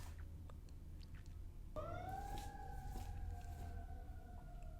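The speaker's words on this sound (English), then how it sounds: "If you guys heard those sirens" A distant siren starts abruptly and wails on a steady, slightly falling tone over low background rumble, fairly faint throughout.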